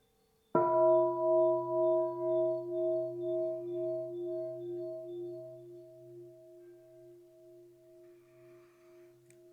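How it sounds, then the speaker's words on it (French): A single meditation bell strikes once, close and clear, and its steady pulsing ring fades slowly for several seconds in an otherwise silent room. "On va écouter un son cloche."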